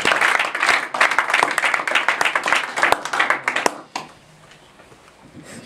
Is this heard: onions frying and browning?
no